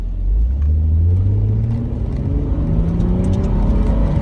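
Nissan 300ZX Z32 convertible driving through S curves, its engine giving a loud, steady low rumble with rising and falling pitch as it works through the bends, alone with no talk.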